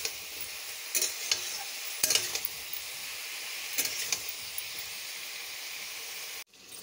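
Vegetable curry sautéing and being stirred in a pan in a home kitchen, with a steady sizzle and occasional sharp scraping strokes of the spoon, close and alone.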